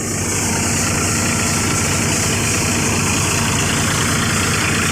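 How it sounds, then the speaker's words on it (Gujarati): A tractor engine idles, a loud, steady, low diesel rumble with constant vibration, close by and unbroken throughout, with no voices. "આ આપણું ટ્રેક્ટર"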